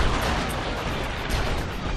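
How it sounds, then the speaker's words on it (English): A rocket launcher fires in the True Crime: New York City video game, a loud, sustained, rumbling blast that fills the moment with dense noise. "the rocket launcher,"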